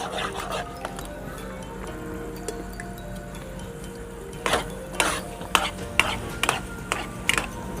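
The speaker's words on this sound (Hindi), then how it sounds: "अब इसकी अच्छी तरह बुनाई करेंगे और हमारा हलवा जो है वो तैयार हो जाएगा।" Dal halwa being stirred and roasted in ghee in a pan, a low steady sizzle underneath while the spoon scrapes and clinks against the pot in irregular bursts, growing busier toward the end.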